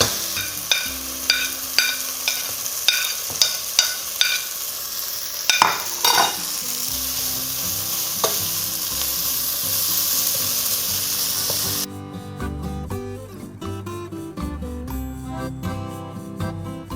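A pan of rougail morue, salt cod cooked with chilies added off the heat, sizzles under a run of rhythmic close scraping stirs, then settles into a softer steady hiss with no talk.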